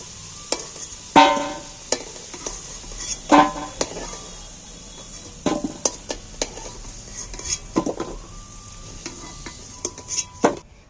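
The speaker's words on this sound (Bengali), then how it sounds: "আলুগুলো ভাজা হয়েছে এবার আমি আলুগুলোকে একটা জায়গার মধ্যে তুলে দিচ্ছি" Fried potatoes being stirred in hot oil and lifted out, with repeated sharp clinks of a metal spatula against the pan over a soft sizzle, irregular scraping taps spread across the whole stretch.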